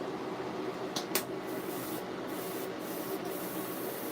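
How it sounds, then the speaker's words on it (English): Short hissing bursts of thinner sprayed through a freshly cleaned Iwata Eclipse airbrush, a few brief sharp sprays over a quiet room background. "So I want to spray a little thinner through them."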